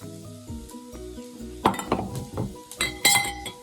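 Chopped onion, carrot and celery sizzle in hot oil in a pan, a soft frying hiss broken by sharp clinks and scrapes of a utensil stirring against the pan, close and with no talking.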